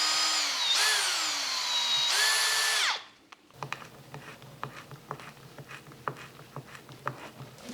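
Power drill boring a pilot hole into a workpiece clamped to a table while making a neck profiling jig, starting slow: after a few seconds of a loud whining tonal hum, the drill cuts out and irregular scratchy tapping and clicks follow.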